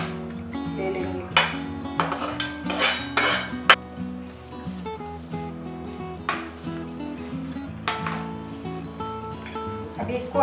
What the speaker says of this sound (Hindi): अभी कढ़ाई में जो मसाले हैं उसमें आलू ऐसे डाल के हम वो मसाले भी ले लेंगे।